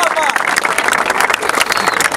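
A crowd at a rap battle final applauds, a loud dense clatter of clapping with cheering and shouting voices mixed through it, close and continuous.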